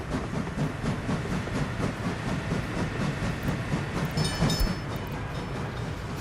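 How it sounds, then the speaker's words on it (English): A train runs on rails in the video game Workers and Resources, giving a continuous rolling rumble with rhythmic clickety-clack beats and a brief squeal near the end, heard alone at moderate level. "That's Thomas the Tank Engine. I can hear his signature sound"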